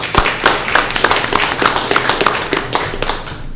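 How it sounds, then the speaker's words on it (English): A round of applause fills a city council meeting room, with dense, steady clapping from a crowd that carries on throughout. "give them a round of applause"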